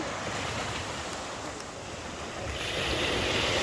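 Rough sea waves roll and wash continuously, a broad steady roar with wind buffeting the microphone, swelling louder toward the end; no talking.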